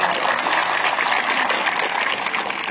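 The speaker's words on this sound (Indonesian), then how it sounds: "Tepuk tangan buat beliau." Audience applause at a Maulid Nabi gathering in Monjok, Mataram, a dense, loud, continuous wash of many people clapping, sustained evenly throughout.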